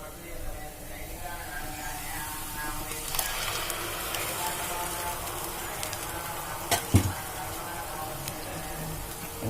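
Tomato paste frying with onion pieces in a pan for a drumstick masala curry, a steady close sizzle with occasional stirring scrapes and a couple of sharp clinks near the end.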